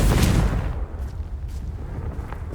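A Confringo fire spell bursts in Hogwarts Legacy, a heavy boom at the start followed by a rumbling, crackling tail fading over a couple of seconds, loud and close.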